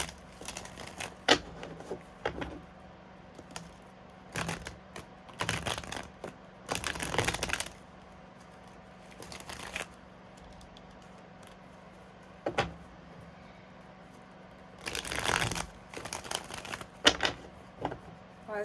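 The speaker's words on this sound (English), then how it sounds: "I need to shuffle this deck a little bit more." A tarot card deck is shuffled in irregular clusters of riffling and slapping bursts separated by quiet gaps, close by, with faint talk in the background.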